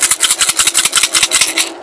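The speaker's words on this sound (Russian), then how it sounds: "Вот сейчас вы можете слышать, как она гремит." A homemade painted baby rattle shaken rapidly and close, producing a loud, steady rhythmic rattle of quick repeated bursts that runs without pause for about two seconds.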